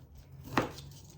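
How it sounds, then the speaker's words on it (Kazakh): A single sharp knife chop through meat on a cutting board, preparing meat for qamyr bauyr, sounding close and crisp over low background hum. "Ең бірінші етімізді турап алайық."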